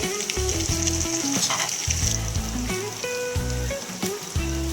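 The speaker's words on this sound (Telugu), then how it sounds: "నూనె వేడయ్యాక ఆనియన్స్ వేసుకుందాం." Onions frying in hot oil in a kadai for Andhra-style chicken curry, a steady close sizzle with crackling bursts that runs the whole way through, with no talk over it.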